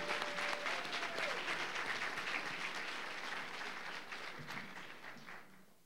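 Sustained crowd applause at a Teacher of the Year celebration, a dense patter of many hands heard from a distance that gradually thins and fades.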